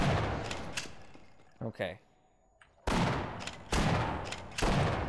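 Gunfire in the Half-Life video game: loud bursts of rapid shots in two sustained volleys, split by a quiet gap in which a voice speaks briefly.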